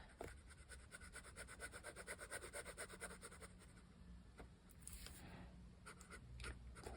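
A fountain pen draws across paper in a quiet room, making soft, rhythmic, scratchy strokes up close. The strokes come in a steady run of back-and-forth hatching, then turn into sparser, separate marks.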